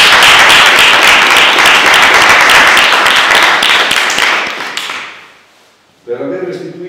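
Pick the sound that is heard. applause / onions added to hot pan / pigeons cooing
applause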